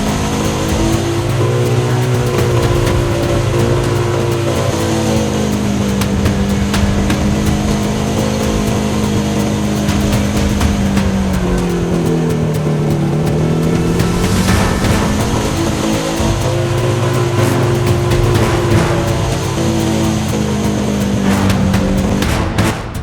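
A manual motorcycle engine labours in low gear up a steepening hill road near Purwodadi, Grobogan, droning loud and close throughout, its pitch rising and dipping as the rider works the throttle.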